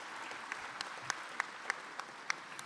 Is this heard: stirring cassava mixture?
no